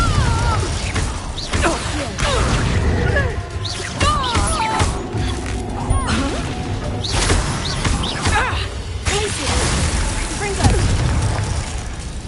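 Bombarda and Confringo explosion spells in the video game Hogwarts Legacy go off as repeated loud bursts and booms with crashing debris and clattering effects, mixed with game voices and a player talking over the action.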